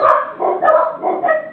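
A dog barks repeatedly at close range, four or five rough barks in a steady rhythm with brief gaps between them.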